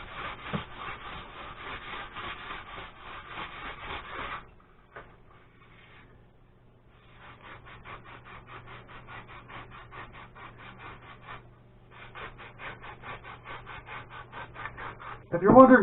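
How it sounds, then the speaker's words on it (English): Sandpaper rubs up and down on wood for a draw knife in quick rhythmic strokes, close and scratchy, pausing briefly before resuming. "why on earth am I sanding it when I'm about to burn it"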